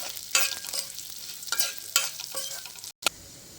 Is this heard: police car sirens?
no